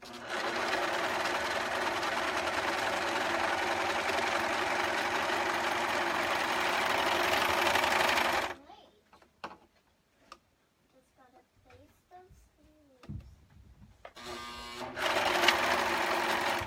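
A serger overlock machine runs steadily and loudly while sewing a top, a dense continuous whir for about eight seconds before cutting off into quiet handling noises, then briefly starting again near the end.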